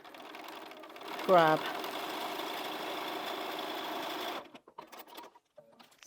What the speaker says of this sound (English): But this is really nice, easy sewing.